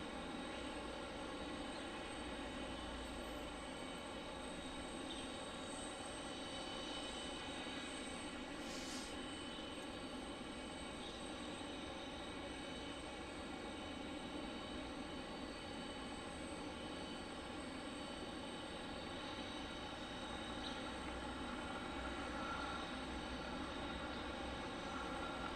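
Embraer 190 airliner at Detroit Metro Wayne County Airport, a steady, sustained jet engine roar that holds fairly level throughout, with broadband rumble and no talk.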